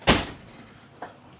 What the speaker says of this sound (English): Oh, and it's the 4-door. The back doors open out.